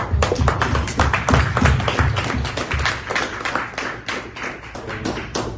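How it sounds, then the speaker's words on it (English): An audience at an American Premier League ceremony in Connecticut breaks into applause, dense close handclaps with some thumps that gradually thin out and soften toward the end. "So thank you again, and a big round of applause"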